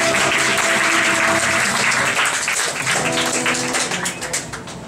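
Applause from a concert audience at a live band performance, a dense, loud patter of clapping that holds steady and then thins out slightly, mixed with lingering musical tones and some voices.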